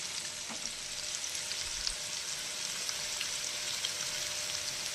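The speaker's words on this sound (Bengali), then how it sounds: "তাহলে বন্ধুরা আলুটা ভেজে নিয়ে আমি" Potatoes fry in hot oil with a steady, close, hissing sizzle that holds at an even level throughout, with no talking.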